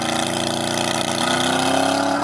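A Chevrolet Corvette C8 Z06 sits at a steady, loud engine drone before a 0-60 launch test, the tone holding close and even with a slight rise toward the end.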